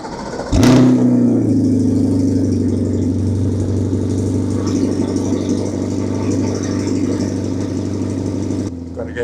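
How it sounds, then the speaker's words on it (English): A car with an AWE Touring aftermarket exhaust cranks and fires up with a sharp burst, then settles into a loud, steady, deep idle drone that continues without letup until a change near the end. "I'm going to start the car now."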